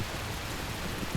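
Steady heavy rain falls during an Indian monsoon, a dense continuous hiss of drops with no pauses and no voices over it.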